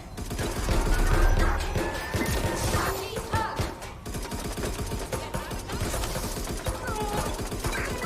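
Bursts of gunfire crackle and pop in rapid volleys over a dense, noisy backdrop, continuing at a steady intensity, in the video game Watch Dogs: Legion.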